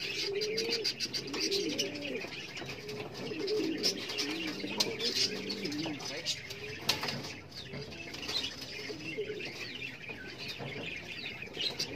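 Young racing pigeons in a loft coo in repeated low throaty phrases close by, with scattered chirps and brief wing flaps over a steady background hum.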